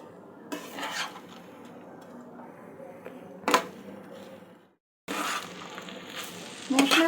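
Rice and chana dal being stirred and fried with spices for khichuri: scraping spoon strokes and a steady sizzle, with a louder clatter near the middle, a brief silent break, then more stirring and sizzling.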